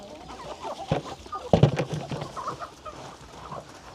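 Chickens cluck at feeding time on a rural Thai farm where pigs are also fed, a few scattered close clucks and calls over faint background rustle.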